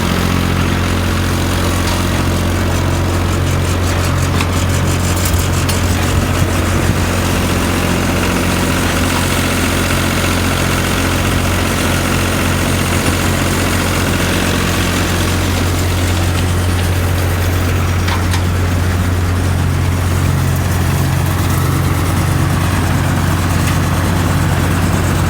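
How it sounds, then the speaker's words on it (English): An old belt-driven straw chopper with knives and a blower under a big cover runs at a loud, steady mechanical drone with a low rumble throughout, without pauses. "You put your straw on this apron and it just moves in through there, and then there's knives and a blower in that under that big cover"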